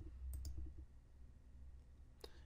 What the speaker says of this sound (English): So if I click OK,